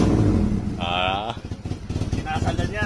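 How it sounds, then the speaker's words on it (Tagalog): A 1996 Honda Civic LXI with a JDM D16 engine idles at low revs with a steady, low, throbbing rumble close by, while voices talk over it. "Ito ang normal na idle."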